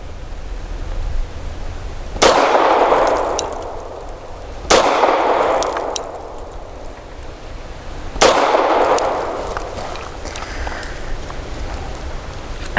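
A Tisas Tank Commander 9mm 1911 pistol fires three loud, sharp shots at uneven intervals. Each report rings out into a decaying outdoor echo, and no one speaks.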